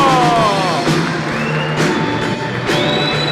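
Studio audience cheering and whooping for Geraldo Rufino as he is introduced, a loud, steady wall of crowd noise with scattered shouts and whistles, briefly rising in bursts.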